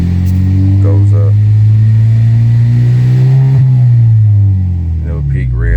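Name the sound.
Genesis G70 engine revving up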